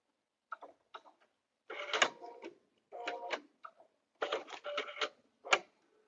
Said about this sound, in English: I'm going to stitch this the same, just to close off that hem.